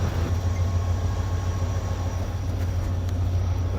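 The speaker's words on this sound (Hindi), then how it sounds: "फाइनली ट्रेन हमारी निकल रही है लांडी जंक्शन से 11:35 पर" Train running at Karachi railway station, a steady low rumble and roar that holds evenly throughout, fairly loud and close with no talking.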